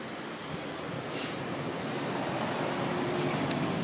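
Flooded Three Point Creek near the McLean Creek recreation area rushing past in a steady, broad roar, moderately distant and fairly quiet, with faint wind and no voices.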